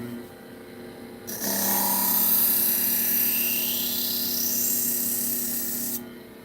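A power grinder cutting a new bevel on a custom knife blade, a loud steady high whine rising in pitch midway as the steel is worked, then cutting off abruptly and leaving lower machine hum.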